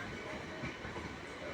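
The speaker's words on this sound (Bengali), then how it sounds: "এই ট্রেনটিও খুব সুন্দর। এটা লোকাল ট্রেন" A local train at Sealdah railway station gives off a steady, dense rumble of rolling rail noise, loud and continuous throughout with no clear breaks.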